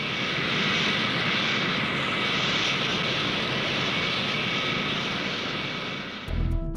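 Concorde, the supersonic airliner, roars steadily overhead on a test flight, a loud, continuous engine drone that holds for several seconds before a brief thump near the end.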